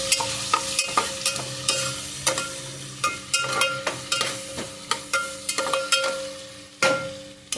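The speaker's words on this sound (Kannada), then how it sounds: "ಒಟ್ಟಿಗೆ ಒಗ್ಗರಣೆ ಹಾಕಿ ಇಡ್ತೀನಿ." Spice tempering for a Kannada potato and drumstick curry, crackling and sizzling steadily in hot oil, with repeated sharp pops and clinks as the pan is stirred, close and fairly loud, no talk.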